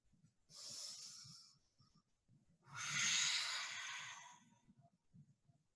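Slow, deep breathing during a calm yoga flow: two long, airy breaths close to the microphone, each a drawn-out hiss with a quiet gap between them.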